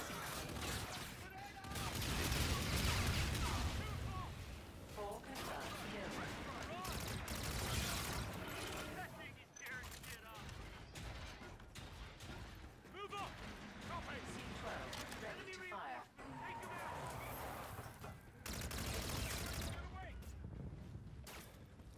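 Sustained gunfire in the Infinite Warfare campaign, dense fusillades and automatic bursts rolling in loud waves with explosions, mixed under in-game voices and talking.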